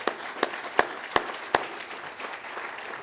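A luncheon audience gives a short round of applause: a few sharp, evenly spaced claps ring out first, then a thinner spread of clapping fades away within about three seconds.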